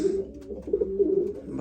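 Racing pigeons coo in their loft ahead of breeding season, a close run of soft, throaty rolling calls that swell and fade in repeated phrases, with a brief light rustle near the end.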